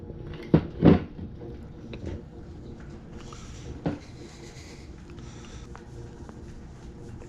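Pliers working a freshly cast lead sinker out of a metal mold: a couple of sharp clacks and a rattling knock early on, then another tap, over a quiet background with no talk.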